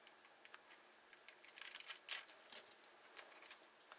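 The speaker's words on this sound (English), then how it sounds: "Scissors to cut it." Scissors cutting a piece of tape, a series of faint, quick snips and crisp clicks that come close together in the middle of the stretch.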